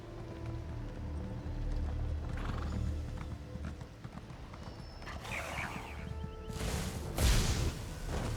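In a video game, horse hooves gallop in a steady clip-clop rhythm, followed by a loud whinnying neigh near the end.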